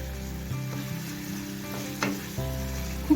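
Spiced masala paste cooking down in oil for a soybean kofta curry, a steady close sizzle and fry with occasional stirring scrapes and a few clinks, no talking.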